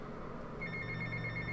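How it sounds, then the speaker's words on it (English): A telephone rings in a video game, a steady electronic tone with sharp high harmonics starting partway through and continuing over background game noise. "Answer your phone, man."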